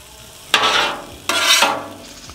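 Sausages and bacon sizzle on a hot Camp Chef Gridiron outdoor griddle, with two loud bursts of frying hiss as food is moved back over the hot spots, alone without talk.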